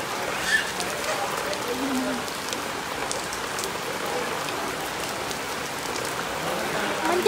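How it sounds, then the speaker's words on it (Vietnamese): Heavy rain pours steadily in Saigon, a dense, even hiss of falling water that holds the whole way through, with a few brighter drips and patters and no voices. "Sài Gòn mưa lớn không thua gì Mỹ Tho nha cả nhà ơi."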